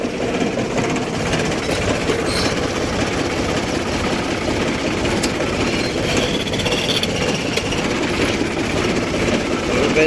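A tractor engine runs with a steady, rough, close chug as it edges back and forth to line up a hitch pin, loud and unbroken for the whole stretch.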